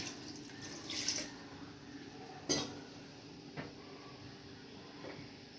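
Water runs briefly into a metal pot, with a few clinks of the vessel against a quiet kitchen hum.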